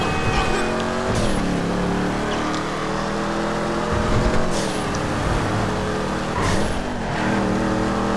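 A Mustang GT in GTA 5 drives with a steady, loud engine drone, its pitch rising and falling as it revs and shifts, with brief bursts of acceleration, all under ongoing talk.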